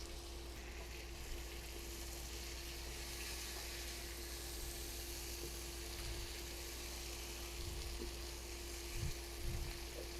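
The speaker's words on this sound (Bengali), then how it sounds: "আমি আলু এবং ডাটা 2 মিনিটের জন্য একটু কষিয়ে নিব ভালো করে" Potatoes and vegetable stems sauté in a spice paste for a fish curry, giving a steady, quiet sizzle with a constant low hum underneath and a few soft bumps near the end, with no voices.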